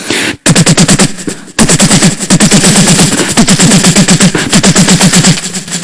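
A voice on a comedy stage imitates AK-47 automatic gunfire, producing a loud, rapid, continuous rattle of bursts with a short break near the start.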